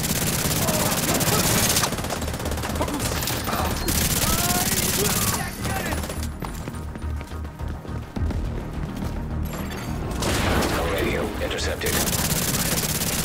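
Rapid bursts of automatic gunfire crackle in heavy volleys in The Division 2, pausing briefly midway before resuming, with game-style combat noise throughout.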